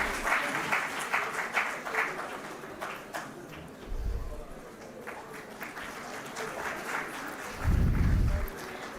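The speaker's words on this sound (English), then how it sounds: "Applause, please." Audience applause for law graduates crossing the dais at a university convocation ceremony: steady, moderately distant clapping through the whole stretch, with low rumbles of handling noise now and then.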